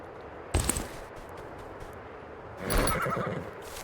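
A horse mount whinnies in the video game Escape from Duckov, a short loud burst followed by a second, longer neigh, with quiet game ambience between them.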